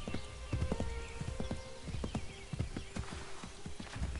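Horse hooves clip-clop at a walking pace in the video game Assassin's Creed 3, a steady run of sharp, close knocks with faint background ambience.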